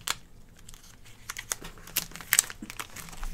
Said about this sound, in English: you can just take your ATC cards and put them in